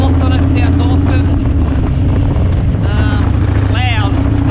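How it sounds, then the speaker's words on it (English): A Harley-Davidson stage 2 motorcycle fitted with a Two Brothers exhaust cruises at highway speed, its steady low engine drone buried under loud, constant wind buffeting, with a faint voice briefly audible. "We've got the new Two Brothers exhaust on it. Sounds awesome."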